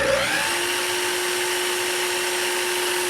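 A miter saw motor runs at a steady high whine after spinning up, loud and close, a constant droning tone with no talking.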